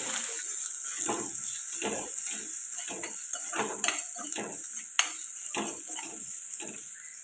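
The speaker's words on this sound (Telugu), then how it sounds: "అల్లం వెల్లుల్లి పేస్ట్ కూడా పచ్చివాసన పోయేదాకా ఫ్రై చేసుకుందాం" Ginger garlic paste fries in a pan for a potato curry with a steady, bright sizzle, punctuated by repeated scraping stirs and a couple of sharp utensil taps against the pan, with no talking.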